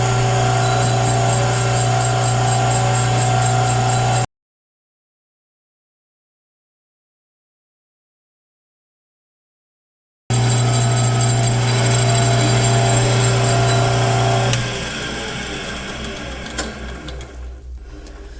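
A boring bar machines the bore of a Caterpillar D2 track frame with a steady, loud mechanical whir. It stops abruptly for several seconds, starts again, then drops to a quieter rattle.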